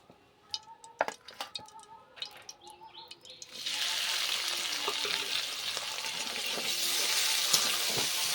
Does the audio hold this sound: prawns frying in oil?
yes